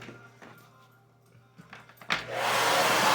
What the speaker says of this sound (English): how the blow dry gets moved so you don't burn them, but you dry them thoroughly